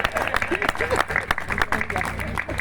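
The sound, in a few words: audience applause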